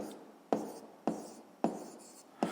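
Pen strokes writing down a math solution, four evenly spaced scratchy taps each fading away, quiet and close.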